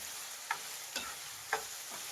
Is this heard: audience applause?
no